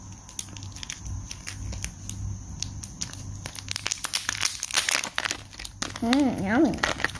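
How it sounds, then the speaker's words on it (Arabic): Foil wrapper of a Kinder Surprise chocolate egg crinkles and tears in close, busy bursts, with a voice chiming in over the crackling near the end. "هلا راح نفتح كندر إيج"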